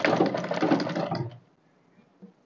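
A sewing machine stitching crinoline net runs in a fast, steady mechanical whir with rapid needle clatter for over a second, then stops, leaving near silence and a faint small knock.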